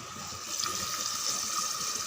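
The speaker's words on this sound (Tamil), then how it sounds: "இந்த டைமில் நம்ம தண்ணி சேர்த்துடலாம்." Water is poured into a pot of chicken biryani in progress, a steady gushing splash that swells slightly partway through and continues evenly at moderate volume.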